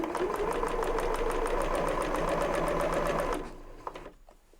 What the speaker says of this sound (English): So I put my fabric underneath the foot, start sewing